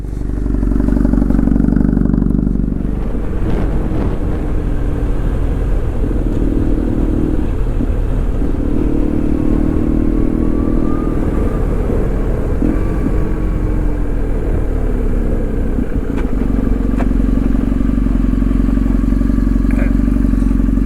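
A motorcycle riding along a road through the New South Wales countryside, its engine droning loudly and steadily close by, the pitch shifting and dipping as it changes speed, with rumbling road and wind noise underneath.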